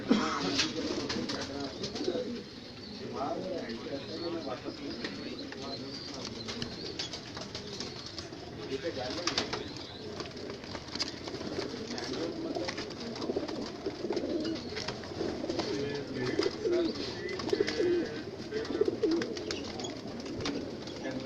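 Pigeons coo in soft, low, rolling calls that repeat throughout, moderately near, over a constant murmur of background noise with occasional voices.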